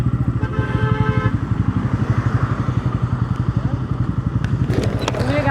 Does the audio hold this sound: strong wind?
no